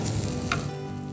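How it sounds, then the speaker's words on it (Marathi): Sugar and grated coconut sauté in a hot pan for sweet fried modak filling, a soft continuous sizzle with a faint stirring scrape, close and quiet, no speech. "साखर आणि खोबरं एकजीव होईपर्यंत 1-2 मिनटं परतून घ्या"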